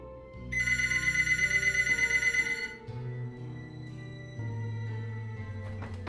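A telephone rings with a rapid trilling bell for a couple of seconds over low music, then stops while the music carries on.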